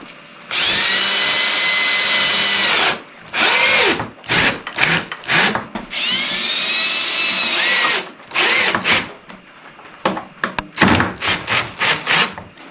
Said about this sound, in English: I'm gonna drill this whole board down.